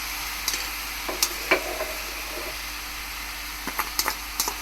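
Spice paste of ground onion and coconut with Malvani masala, turmeric and salt frying in a pan on low heat, with faint sizzling and a few scattered stirring scrapes and clinks.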